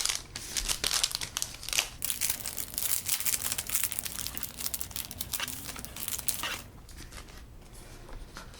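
Washi sticker sheets are crinkled, handled and peeled over a planner cover, with crisp crackling and crumpling close up throughout, easing off near the end.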